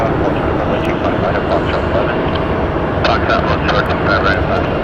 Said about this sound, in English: This 787 Dreamliner is flight 692, operated by American Airlines, going to Honolulu, Hawaii.